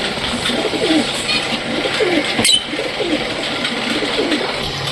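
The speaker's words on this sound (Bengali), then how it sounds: "সব পাখিগুলো কি সুন্দরভাবে উড়তেছে।" Pigeons coo in repeated low, rolling phrases inside a loft, with one sharp burst near the middle, steady background murmur throughout, no talking.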